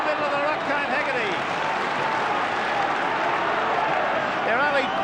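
A roaring stadium crowd of about 50,000 at a 1986 St Helens versus Australia rugby league match cheers and claps in a dense, continuous wash, with voices rising and falling through it.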